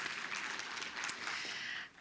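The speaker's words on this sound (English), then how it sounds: "Another round of applause" An audience at an energy investment conference gives a brief round of applause, a soft, even patter of many hands that fades out at the end.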